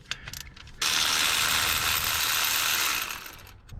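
A ratchet loosens a tightly torqued spark plug on an LS swap 4.8 engine, giving a few brief clicks and then a loud, steady rasp of rapid ratcheting for about two seconds before it stops.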